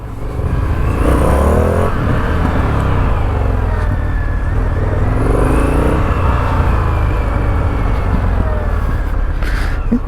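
Indian FTR 1200S motorcycle engine and exhaust, loud and close, a steady rumble with rising and falling revs as the bike rides, slightly quiet exhaust note at first.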